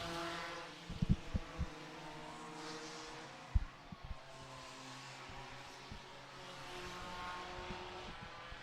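Race cars lapping an oval at Franklin County Speedway during the Let Freedom Ring 300, heard faintly from a distance as a steady engine drone with a few short thumps and no talk.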